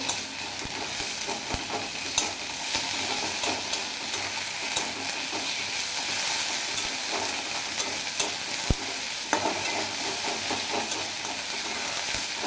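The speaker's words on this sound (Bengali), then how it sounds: "আদা রসুনের পেস্ট দিয়ে আমি হালকা রেখে ভেজে নেব।" Ginger garlic paste frying with onions in a pan: a steady, close sizzle with occasional clinks of stirring, no talk.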